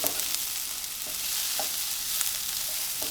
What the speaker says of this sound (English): Stir it all through.